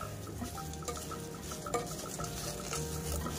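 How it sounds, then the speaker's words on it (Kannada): Drumstick leaves frying in a pan over low to medium flame while being stirred, a soft continuous sizzle with small scraping and clinking taps of the spoon against the pan. "ಇದನ್ನು ಪೂರ್ತಿ ಇದಕ್ಕೆ ಹಾಕ್ಕೊಂಡು ಚೆನ್ನಾಗಿ ಫ್ರೈ ಮಾಡ್ಕೋಬೇಕು"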